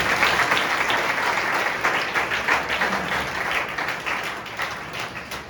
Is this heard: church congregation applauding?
yes